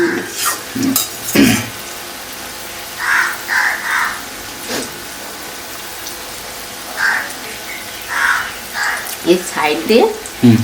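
Malpua made with rice flour frying in a pan, a low continuous sizzle under a woman's intermittent speech, with scattered clinks and scrapes of a utensil against the pan.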